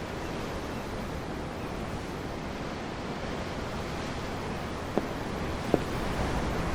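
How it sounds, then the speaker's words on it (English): Steady ocean waves wash and hiss continuously while a ship is under sail in Tales of Arise, with two faint brief ticks near the end and no talking. "The ocean? Yeah. The waves."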